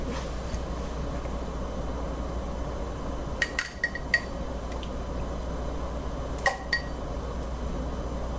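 A ladle scooping thick homemade vegetable juice, with a few light clinks and knocks against the pot and glass over a low steady hum, close and fairly quiet.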